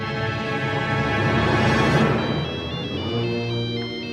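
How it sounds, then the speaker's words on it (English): A phone ringtone plays over the soundtrack of the movie Jurassic Park III, its tonal melody steady and fairly loud against a dense musical background. "On the plane we see it, we hear the ringtone."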